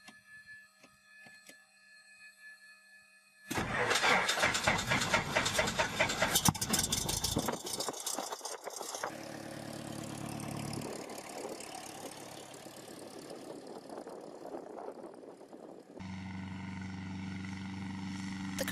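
A 1976 Cessna Cardinal 177B's engine fires up after a few faint clicks, then settles into a steady, loud idle with a running drone close by; no talking.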